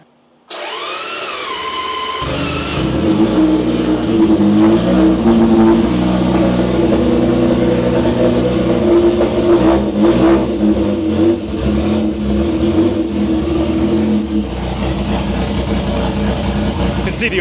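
A Rob North Triple motorcycle engine whirs briefly on the starter, then catches and runs loud and close, revving up and down in a steady, throaty roar for the remainder.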